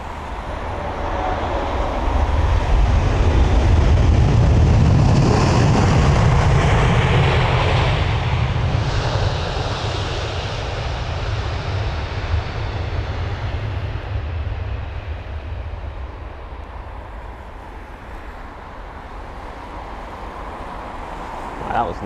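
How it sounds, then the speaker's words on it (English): An American Airlines Boeing 777-200ER on landing arrival from Miami, with the deep, loud roar of reverse thrust swelling up, holding for several seconds, then slowly fading into a lower rumble. "You could really hear the roar of the reverse thrust on board the 777-200ER."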